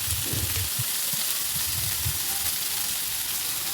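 Ginger-garlic paste sizzles and fries in hot oil in a pan while cooking masale bhat, a steady close hiss with soft stirring scrapes throughout and no voices.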